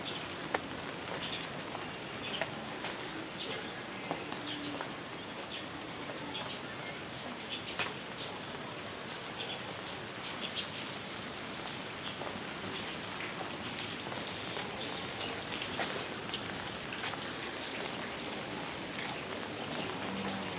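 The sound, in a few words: rain falling on surface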